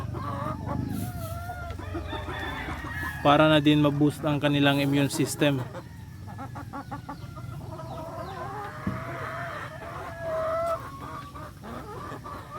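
Someone talks over a flock of clucking chickens, and one loud, drawn-out squawk or crow rises above them partway through.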